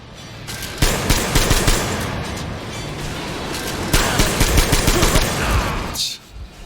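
Loud bursts of automatic gunfire in the video game Metro Exodus, two long rattling volleys of rapid shots, close and dominant, separated by a short lull and cut off near the end.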